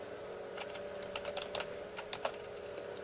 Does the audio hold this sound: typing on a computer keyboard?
yes